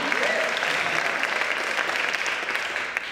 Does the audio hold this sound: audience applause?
yes